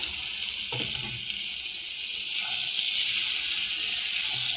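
Raw young jackfruit pieces fry in a spiced masala tinted with Kashmiri chilli, a loud continuous hissing sizzle with a brief clatter early on, heard alone and steady throughout.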